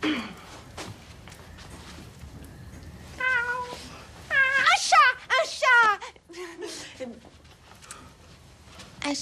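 A person imitates a cat during a guessing game, producing a string of rising and falling meows that grow louder in the middle, with quieter breathy vocal sounds around them.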